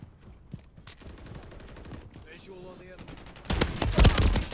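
Call of Duty gunfire builds from scattered distant shots and game noise into a loud, dense volley of rapid shots near the end, with voices audible around it.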